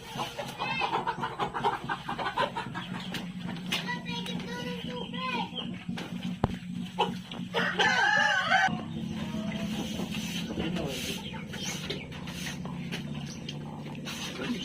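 Black Australorp chickens cluck nearby and a rooster crows briefly, all under people chatting during delousing.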